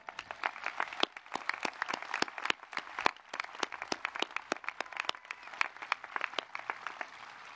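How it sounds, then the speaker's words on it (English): A graduation audience of families applauds the class of 2021. Steady, sustained clapping runs throughout, with crisp individual claps standing out from the crowd at moderate distance. "Families, this is worthy of applause as well."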